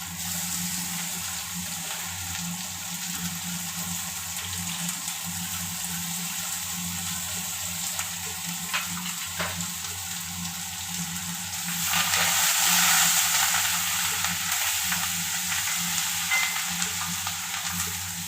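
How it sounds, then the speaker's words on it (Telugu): Small sambar onions and curry leaves fry in a pan with a steady close sizzle, swelling louder and brighter for a few seconds near the end before settling back to a continuous crackle. "బాగా ఎర్రగా వేగాలండి అప్పుడే బాగుంటుంది"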